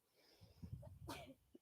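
One quick sneeze sounds nearby during an outdoor yoga class, a short breathy burst ending sharply, fairly faint and quiet.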